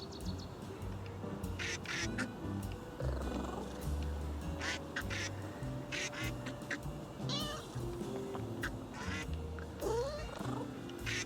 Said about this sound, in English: Remember that rubber duck I needed earlier?